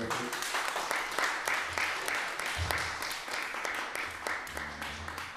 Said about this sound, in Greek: Ένα χειροκρότημα παρακαλώ για αυτό.